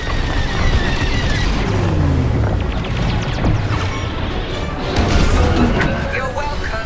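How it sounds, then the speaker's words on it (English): Laser fire strikes a starfighter in the Star Wars Squadrons space combat game, loud repeated crashing booms and impacts over a dense battle din, with radio chatter voices talking throughout. "I think they're shooting at me."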